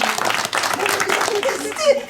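Scattered clapping from an audience at a village theatre show during a thousand-year anniversary festival in La Roche-des-Arnauds, steady and close, with voices speaking over the applause.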